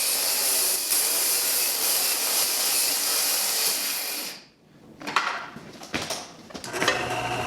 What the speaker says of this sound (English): Right now I'm drilling some holes that I'm going to grind out